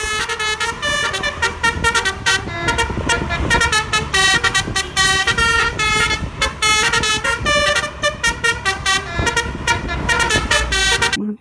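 A Sudiro Tunggal Jaya bus passes close by, blasting a loud, repeated musical horn in rapid rhythmic bursts over its engine rumble.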